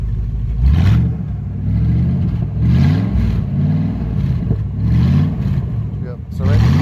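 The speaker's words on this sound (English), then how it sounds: "Rev it up, baby." A 1996 Chevrolet Impala SS V8 with a bad exhaust revs in several loud, rising bursts, each swell dropping back to a rough idle, with someone talking over it.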